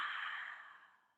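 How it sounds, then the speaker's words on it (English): A single long exhale out through the mouth during a yoga breathing exercise, a soft close breathy rush that fades over about a second, alone without talk. "Belly, chest, and then exhale out of the mouth."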